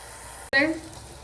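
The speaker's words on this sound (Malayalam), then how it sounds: "ഒരു ടേബിൾ സ്പൂൺ വെളിച്ചെണ്ണ ചേർത്ത് കൊടുത്തിട്ടുണ്ട് അതിലേക്ക് കാൽ ടീസ്പൂൺ ഉലുവ ചേർത്ത് കൊടുത്തിട്ടുണ്ട് അതിലേക്ക് ചെറിയ പീസ് ഇഞ്ചി വെളുത്തുള്ളി അതൊന്ന് വഴണ്ട് വരണം" Ginger, garlic and fenugreek seeds hit hot coconut oil in a pan with a short, bright sizzling burst that quickly settles into a softer crackle.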